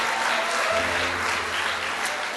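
Steady applause from a church congregation, many hands clapping loudly and continuously with a faint low hum underneath.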